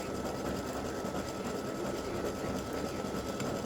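An embroidery machine stitches free-standing lace Christmas tree earrings, a steady, rapid mechanical whirring and clatter running without pause at moderate loudness.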